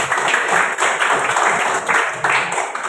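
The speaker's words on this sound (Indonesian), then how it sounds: "Tepuk tangan buat kita semuanya." A class of students claps together in a classroom, a fairly loud, somewhat uneven burst of hands with slight surges in rhythm.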